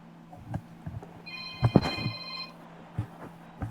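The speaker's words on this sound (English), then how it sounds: "Hang on, it's phone." A telephone rings once with a bright electronic tone, set amid faint room noise and a few scattered clicks and knocks.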